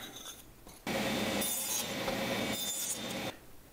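Wooden rails for a bird feeder being cut, a steady close rasping cut lasting about two and a half seconds after a few short scrapes, then stopping.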